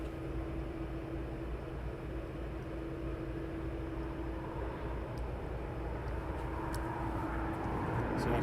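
An airliner comes in to land at East Midlands Airport, a steady, distant engine drone and whine that slowly grows louder under faint outdoor background noise, with no one speaking.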